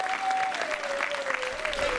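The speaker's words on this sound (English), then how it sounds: "round of applause" Audience applause at a movie premiere in a Regal Cinemas theater, a steady dense wash of clapping filling the whole stretch at moderate level, with a faint sustained tone running underneath.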